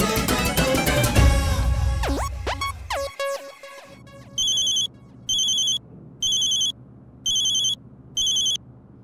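A dialed telephone call: a jumble of dial tones and sweeping beeps gives way to a steady ringback pattern of five evenly spaced electronic rings, loud and close with no talking.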